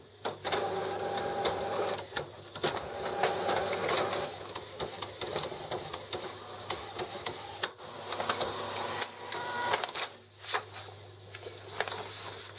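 An Epson WF-7210 inkjet printer runs a nozzle check print, whirring and clattering steadily up close, with the print head shuttling rhythmically and brief clicks between passes, and no talk.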